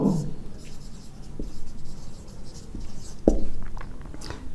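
Chalk or marker scratches across a board during a maths lesson, with intermittent strokes and taps amid a teacher's speech and a couple of sharper knocks.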